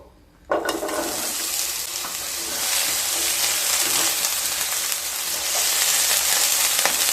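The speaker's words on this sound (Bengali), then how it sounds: "তেলটা গরম হয়ে গেছে, এবার কেটে রাখা 2টো মিডিয়াম সাইজের আলু দিয়ে দেব।" Two cut medium potatoes drop into hot mustard oil with a sudden loud burst of sizzling, settling into a steady, close, bubbling fry hiss that continues throughout.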